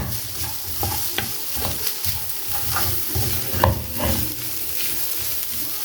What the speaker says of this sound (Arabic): نبتدي نشوح كل المكونات بتاعتنا مع الرز تشويحه خفيفه